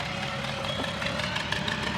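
A TVS Apache RR310 motorcycle with about 25,000 km on it idles steadily and close by, its engine a continuous even chug with faint mechanical knocking and no talk over it.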